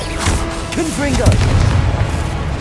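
A Confringo blasting spell in Hogwarts Legacy bursts with a heavy boom and low rumble, mixed with a magical whooshing sweep and a shouted voice over dense battle noise.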